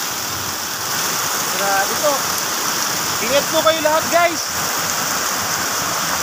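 Heavy rain pours down steadily, a dense unbroken hiss filling the background while a person talks over it for a few seconds.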